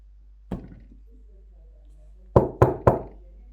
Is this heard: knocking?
yes